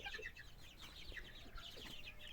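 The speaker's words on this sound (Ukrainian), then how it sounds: "Ось наші старі кури" Soft clucking from several chickens, faint and scattered over a quiet outdoor background.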